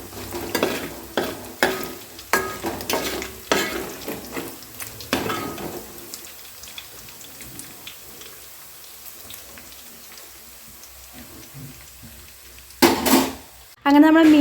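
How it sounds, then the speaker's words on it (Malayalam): Fish pieces for Kerala-style fish pickle fry in an uruli, a rapid series of sharp stirring and scraping clatters over a bubbling sizzle, then settling to a quieter steady sizzle before a few more loud knocks at the end. "അപ്പോൾ ഞാനിതൊക്കെ ഒന്ന് ഫ്രൈ ചെയ്ത് കോരിയെടുക്കട്ടെ."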